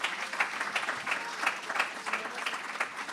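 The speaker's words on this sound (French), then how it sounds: "On peut applaudir le Seigneur." A church congregation claps in praise during a French worship service, a moderately distant, uneven patter of many hands with scattered louder claps and no talking.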